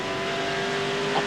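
A TVR Tuscan race car engine changes up to fourth gear in a 1990 Tuscan Challenge race, a steady loud engine drone with a sustained tone running throughout and a brief bump near the end.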